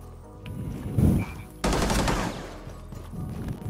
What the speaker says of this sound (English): One more shot, Dylan.